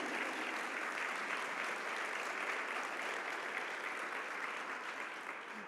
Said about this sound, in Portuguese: Será que você pode aplaudir a Deus por isso?